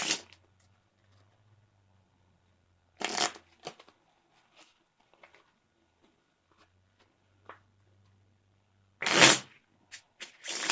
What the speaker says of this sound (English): So we'll go ahead and shuffle these.